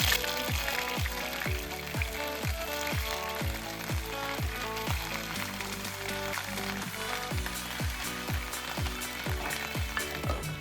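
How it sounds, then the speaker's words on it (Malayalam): Paneer pieces fry in hot coconut oil with a continuous, dense sizzle and crackle that stays steady and fairly close throughout. "പനീർ നമുക്ക് വറുക്കാൻ വേണ്ടിയിട്ട് ഇതിലേക്ക് ഇട്ട് കൊടുക്കാം."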